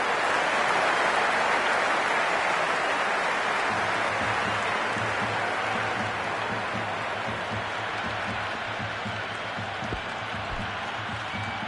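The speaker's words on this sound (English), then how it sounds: "It's evident and ever so audible that the crowd is at near bursting point at today's play." Stadium crowd in the Cricket 26 video game, a T20 match between Kings XI Punjab and Chennai Super Kings, giving a constant broad roar with a low droning hum underneath.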